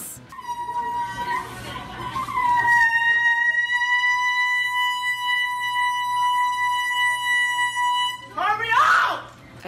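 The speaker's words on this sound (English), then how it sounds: "he blasts an air horn inside of an Arby's" An air horn blasts inside an Arby's restaurant, a loud, steady, bright tone held for several seconds after a shorter wavering honk, ending in a burst of shouting.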